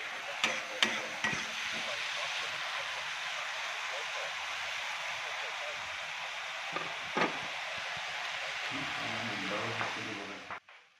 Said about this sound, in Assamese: এতিয়া মই এইখিনি আকৌ অকণমান ভাজি ল'ম।